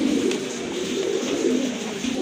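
A pair of Adana lip pigeons, blue check, coo steadily in a low, continuous rolling drone that is close and fairly loud, with no voices over it.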